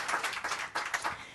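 Audience applause at a panel discussion on EU education and cloud regulation, a short burst of scattered, moderately close clapping from the room with no voices over it.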